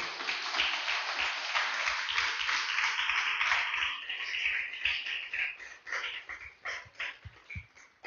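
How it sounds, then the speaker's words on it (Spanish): Church congregation applauding the Lord after a sermon passage, a full wash of clapping that thins into scattered, uneven claps toward the end. "Den un aplauso fuerte al Señor"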